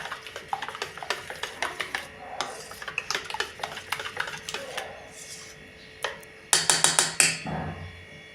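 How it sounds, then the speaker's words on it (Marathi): A spoon stirs salted rava and poha dosa batter in a metal vessel, with repeated quick scraping clinks and taps in an uneven rhythm, close and clear, growing louder toward the end. "मीठ घातल्यानंतर हे पुन्हा छान असं मिक्स करून घ्यायचं आहे"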